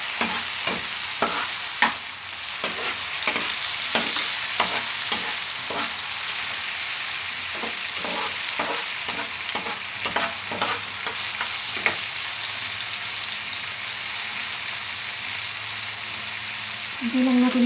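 Fresh tomatoes fry in a pan after garlic and onion while a utensil stirs them in a steady run of scraping strokes, over a continuous close sizzle with no talk.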